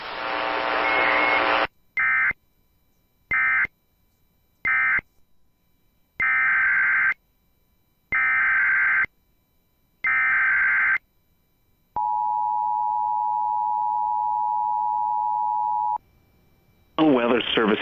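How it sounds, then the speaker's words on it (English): NOAA Weather Radio warning alert tone broadcast, a series of harsh buzzing data bursts with gaps, then one long steady pure tone of about four seconds, loud and close, followed by a voice beginning to speak. "this has been a test of NOAA Weather Radio's warning device"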